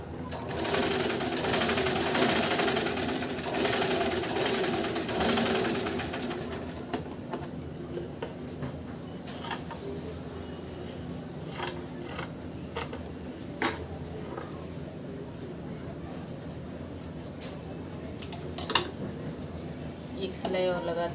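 A sewing machine stitches a double katori blouse, its rapid mechanical whir running loud in bursts at first, then giving way to short clicks and intermittent stitching.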